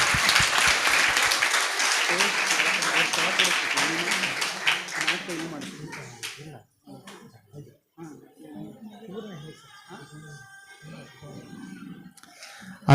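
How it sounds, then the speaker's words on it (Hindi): Dense, loud applause from an audience at a Vedavyasa Gurukulam school event honouring a children's yoga performance, running for about six seconds before fading into a speaking voice. "उन सभी को और एक बार हमारे तरफ से जोरदार तालियां"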